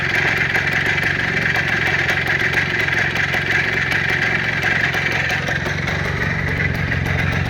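A car engine idles steadily and close by, a continuous low rumble with a faint rhythmic throb holding even loudness throughout, no voices over it.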